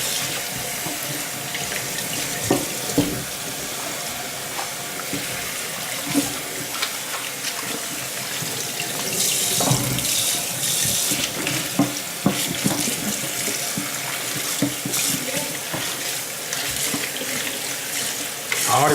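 Tap water runs into a sink while a salt-brined turkey is rinsed, making a continuous splashing rush with irregular louder spatters as the bird is handled under the stream.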